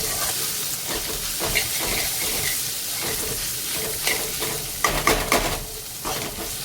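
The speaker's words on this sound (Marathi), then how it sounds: "1-2 मिनटं मी जस्ट ह्याला सॉटे करून घेतलं आहे हाय फ्लेमवरती" Vegetables for street-style veg Hakka noodles sautéing on high flame, a steady close sizzle and hiss with repeated stirring scrapes and a few louder clanks near the end, no talking.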